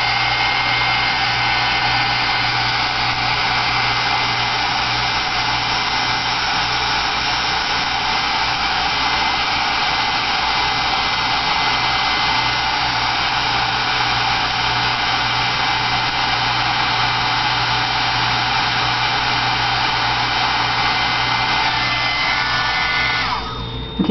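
A handheld hair dryer blows steadily on a wet mixed-media craft piece held in a container, a loud continuous whirring roar that runs unbroken for the whole span before cutting off at the end.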